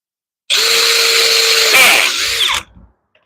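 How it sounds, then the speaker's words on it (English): A power drill bores into wood for DIY firepit seating work, a single loud, steady whine lasting about two seconds that strains and dips near the end before stopping, with no talk. "I'm just going to drill it here."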